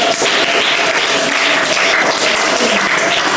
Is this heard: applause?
yes